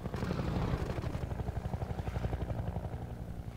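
A helicopter's rotor thuds in a fast, steady rhythm with a loud engine drone, close and continuous, in Half-Life 2.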